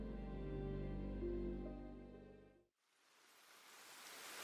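Steady hiss of rain in the video game Ender Lilies, fading out mid-clip as music drops away, then returning as a broad soft wash of falling rain.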